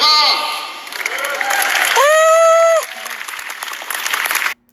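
Audience at a Rutgers University lecture claps in a broad, sustained wash of applause, with a voice and a drawn-out sung tone rising above it before the clapping fades out.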